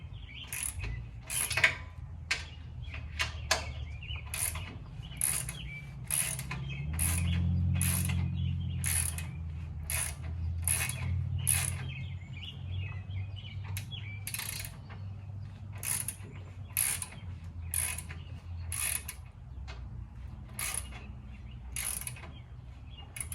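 Ratchet wrench tightening skid plate bolts near a truck's differential and frame, giving a long series of sharp rhythmic clicks in quick bursts, close and crisp over a low background rumble.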